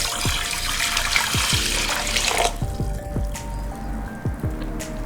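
Water pours into a glass dish holding dry brown basmati rice, a close, bright splashing trickle with repeated gulping, glugging bubbles in a steady rhythm, then thinning to a few drips near the end.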